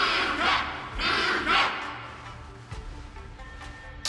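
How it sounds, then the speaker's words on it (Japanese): Game crowd in the Honkai: Star Rail Wardance event cheers and roars in swelling waves after a fight, with a few dull thuds; the noise rises and falls in broad surges and then fades toward a sudden bright burst at the end. "すべての人が君のために歓声を上げているんだ。"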